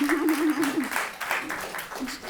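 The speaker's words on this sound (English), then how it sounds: "Round of applause." A round of applause from the audience at a food systems innovation session, clapping spread through the room with a voice talking over the first second.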